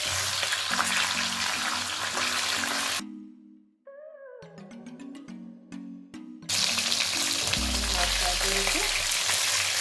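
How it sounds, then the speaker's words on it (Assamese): Fish heads sizzle and crackle in hot oil with a dense, steady frying hiss, broken midway by a short stretch of tonal music before the sizzling returns just as loud. "এয়া আমি মাছৰ মূৰটো ধুনীয়াকৈ ফ্ৰাই কৰি লৈছোঁ"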